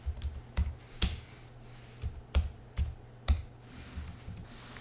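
Sparse keystrokes clack on a computer keyboard, a dozen or so irregular taps at close range against a quiet background hum.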